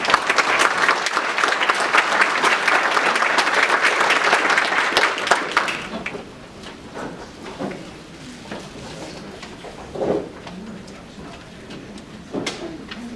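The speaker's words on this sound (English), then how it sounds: "So please give him a round of applause." An audience claps for Mr. McCord at a Summer Creek business event, a dense and fairly loud round of applause that fades after about six seconds into quieter room noise with faint voices and scattered sounds.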